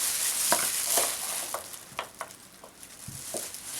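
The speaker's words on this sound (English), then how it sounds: "just kind of mix that around really well" Cinnamon sugar being stirred and tossed together for churro muffins, giving soft gritty scraping and light taps close by, with no voices.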